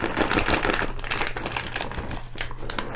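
Close, steady crinkling and crackling of a flameless heating bag as a food tray is pulled out, with rapid rustling bursts over a faint low hum.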